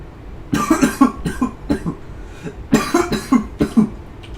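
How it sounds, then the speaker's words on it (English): A string of harsh coughs comes in bursts, several rapid hacks in a row, then a pause and another cluster, close and fairly loud. "sorry about the coughing"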